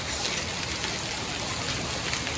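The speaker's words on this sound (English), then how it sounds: "These are grape-sized hail." Grape-sized hail pelts down during a monsoon storm, a dense, steady hiss of countless impacts with no breaks, close and loud throughout.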